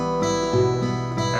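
Acoustic guitar exercise in a lesson, the thumb alternately plucking two strings, producing ringing sustained notes that change pitch every fraction of a second, played alone and close.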